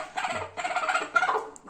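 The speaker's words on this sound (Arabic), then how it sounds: "دجاجة كابسة." A broody hen sitting on eggs gives low, throaty clucks in three short bursts, close and fairly loud, with brief pauses between them and no talking.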